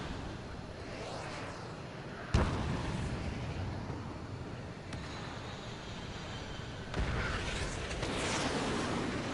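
In a video game, a missile strikes its target with a sharp, loud explosive crack that gives way to a heavy rolling roar, followed by further booming impacts amid continuous engine-like rumble.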